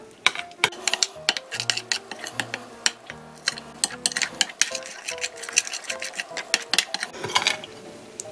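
A spoon clinks and scrapes against a bowl while mixing honey, lemon juice and perilla seed powder into a dressing for a bellflower root salad, a quick irregular run of close, sharp taps and rattles.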